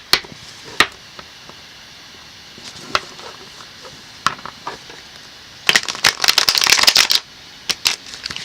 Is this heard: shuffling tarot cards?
yes